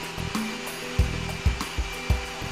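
Sprinter floor scrubber running with its two separate motors, one driving the brush and one powering the vacuum, giving a steady mechanical whir with several short, louder low thumps and surges.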